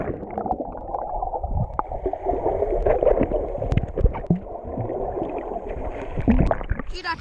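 Muffled underwater gurgling and bubbling recorded while diving at a beach, with low churning water noise and scattered knocks and clicks. Faint muffled voices come through now and then.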